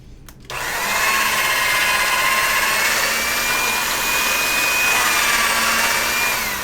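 A pasta machine rolling polymer clay starts with a click and then whirs steadily in a loud, continuous mechanical whine with a faint higher tone, running close and uninterrupted with no talking.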